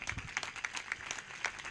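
Church congregation at a Sunday service applauding together, steady continuous clapping at moderate distance throughout.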